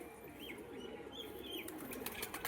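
Homer pigeons of fancy breeds, including Madras pigeons, in a loft, with soft cooing calls and wing flutters against a steady background hum, fairly quiet and with no talking.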